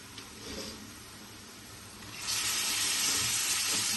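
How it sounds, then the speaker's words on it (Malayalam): Mutton liver dropped into a pan of cooked onions, a quiet background that jumps into a loud, steady sizzle partway through and holds, close by. "ഇനി നമുക്ക് അതിനകത്തേക്ക് ലിവർ ഇട്ട് കൊടുക്കാം."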